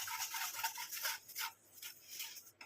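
Lumps in a fried mixture being broken up and pressed with a spoon, making soft, close, rhythmic scraping and crunching strokes in short bursts, quiet overall with no talking.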